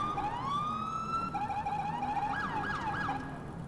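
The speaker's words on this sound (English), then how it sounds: "I love the Los Angeles PD siren." A Los Angeles police car siren in the video game GTA IV wails and rises, then switches to a fast yelping warble, fairly clear and continuous with no voices.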